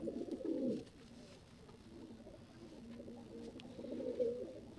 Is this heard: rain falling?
no